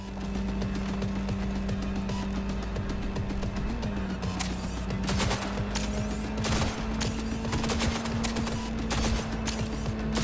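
Rapid bursts of gunfire in the Cyberpunk 2077 video game, sharp repeated shots layered over a steady game hum, fairly loud and continuous throughout with no talking.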